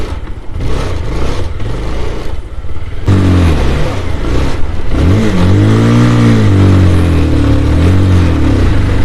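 A Bullet motorcycle engine runs on a long highway, loud and close, its tone climbing and falling as the rider throttles, under a constant rush of wind.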